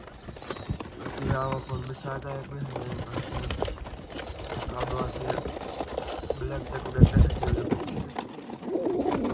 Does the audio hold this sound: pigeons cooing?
yes